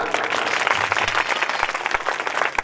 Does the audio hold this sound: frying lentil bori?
no